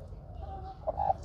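A brooding hen sitting on a clutch of eggs on a farm gives a few soft clucks close by, the strongest near the end, over a low steady background hum.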